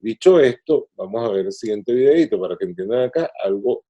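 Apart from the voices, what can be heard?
No everyday noise stands out behind the speech.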